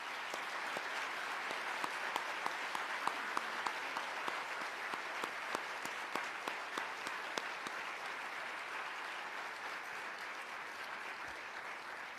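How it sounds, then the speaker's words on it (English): A large audience at a Women of Courage awards celebration applauds steadily for about twelve seconds, a dense, even wash of many hands with sharper individual claps popping out near the front. "Please join me again with a round of applause."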